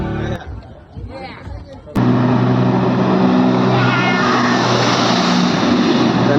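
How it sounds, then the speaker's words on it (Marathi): A jet ski starts out on water with a sudden, loud, continuous roar of engine and rushing spray that lasts to the end, following a few seconds of people talking. "चला मग मित्रांनो करूया आता आपण आपली जेटची रायडिंग"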